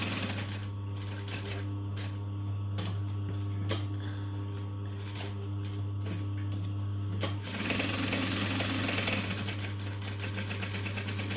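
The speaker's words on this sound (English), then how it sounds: "I'm just going to do a couple stitches forwards and back just to lock it all in." Sewing machine stitching a few short bursts forwards and back to lock a seam, steady near hum with rapid needle clatter, growing busier toward the end.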